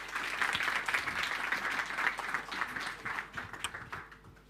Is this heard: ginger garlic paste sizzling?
no